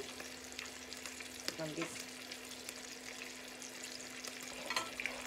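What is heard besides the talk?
trout frying in a pan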